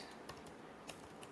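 Computer keyboard typing: a short run of quiet, close key taps, a few distinct clicks spaced unevenly over a soft background hiss.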